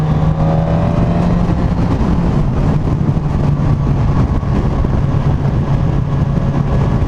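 A 2019 Suzuki GSX-S1000F motorcycle engine drones loud and steady up close, a constant low hum with a faint whine above it, holding unchanged for several seconds without speech.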